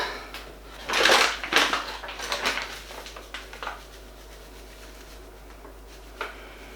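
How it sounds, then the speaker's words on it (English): Bread dough kneaded by hand on a kitchen counter makes soft, irregular thumps and slaps in a cluster of bursts, then sparser, fainter pushes. "Supposed to knead it for 10 minutes."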